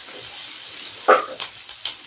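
Chopped onion frying in butter in a pan, with a soft steady sizzle and a few brief stirring scrapes and clinks of utensil against the pan, fairly close.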